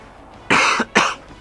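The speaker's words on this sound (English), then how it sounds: "Cough." Two sharp, loud coughs close to the microphone, a short burst followed by a second one about half a second later, from a person playing Final Fantasy X HD.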